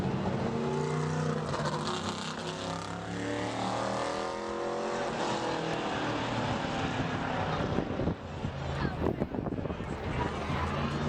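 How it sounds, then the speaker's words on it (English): A modified race car runs a qualifying lap at Bowman Gray Stadium, its engine roaring loud and close with rising and falling pitch as it drives through the turns. "here comes another car out of the Myers camp"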